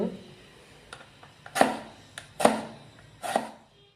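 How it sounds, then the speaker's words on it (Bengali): A knife chops a green chili on a board, giving three distinct sharp cuts about a second apart, each with a brief scrape and faint softer taps between them. "কাঁচামরিচ কেটে নিলাম"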